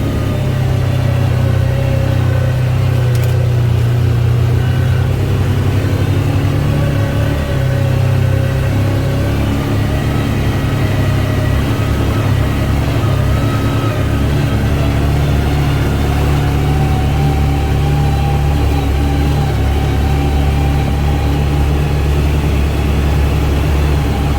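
UForce side-by-side engine working hard on a wet, muddy backwoods track while losing traction, a steady loud mid-to-low drone with slight pitch changes as the throttle varies, running continuously throughout.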